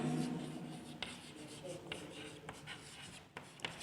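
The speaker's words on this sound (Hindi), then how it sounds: "फिर से मैं लिख देता हूं इसको" A marker or chalk writing on a board during an agriculture lecture on non-insect pests, giving short scratchy strokes with small taps and pauses between them, fairly close and moderately quiet over a faint room hum, with no talking.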